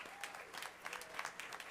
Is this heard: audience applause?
yes